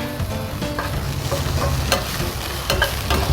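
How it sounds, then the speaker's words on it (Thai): Shiitake mushrooms stir-fry in oil with a splash of light soy sauce, a loud close sizzle with rhythmic scraping of the spatula against the pan, no voices. "เรียบร้อยเรา ผัด ลงในน้ำมันเรียบร้อยแล้วเราก็ ใส่ซีอิ๊วขาวลงไปเล็กน้อย เพื่อให้เห็ดหอมเรามีรสชาติ"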